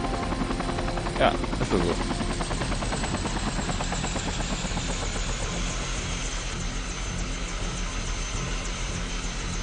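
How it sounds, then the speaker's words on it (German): Helicopter in a video game, a loud, steady throbbing rotor and engine drone that fills the whole stretch, with a brief spoken remark near the start. "Da renn ich mal kurz zum Hubschrauber."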